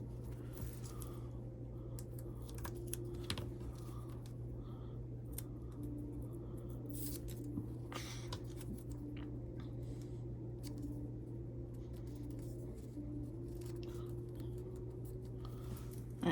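A sewing machine stitches around the ears and wings of a Pegasus mini backpack add-on, giving a steady low motor hum with a continuous fast needle rhythm throughout, moderately close and without talk.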